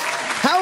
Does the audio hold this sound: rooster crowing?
no